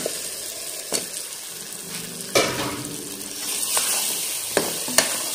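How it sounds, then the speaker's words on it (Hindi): Potatoes fry with tomatoes in a pan for kofte, making a close, steady sizzle. Several sharp stirring clatters and scrapes punctuate it. "अब आलू को हम लोग अच्छे तरीके से भून लेंगे।"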